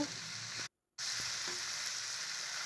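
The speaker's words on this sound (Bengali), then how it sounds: "এখন আমি ভেজে রাখা আলু সয়াবিনগুলো দিয়ে দেবো আলু সয়াবিনটা বেশ ভালো করে কষিয়ে নেব" Fried potatoes and soya chunks sizzle in spiced oil, a steady close-up frying hiss with a few faint stirring taps, interrupted by one short silent gap.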